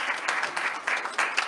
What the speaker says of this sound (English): Ladies and gentlemen, let's thank our panel. Round of applause for those who are here.